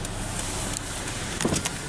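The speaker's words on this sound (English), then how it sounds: "Automatic driver's side window." Driver's side automatic power window on a 2013 Subaru Outback, a brief motor whir near the end of a steady cabin hum, close by with no talking.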